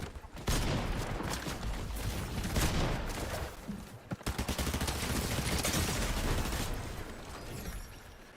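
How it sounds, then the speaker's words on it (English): Gunfire in a video game comes as dense, loud bursts of rapid automatic shots, close and sustained for several seconds with brief gaps, then another long volley. "Ooh, someone's shooting me."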